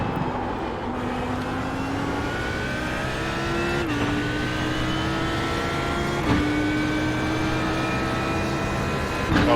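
An Audi R8 LMS GT3 race car engine in iRacing at Sebring screams at high pitch, climbing through gears with brief drops at each shift, continuous and loud with no talking.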